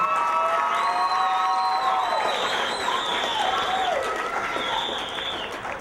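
Audience applauding and cheering for adult education GED graduates at a graduation ceremony, a dense sustained wash of clapping with whoops and shouts throughout, steady and loud, tapering slightly at the end.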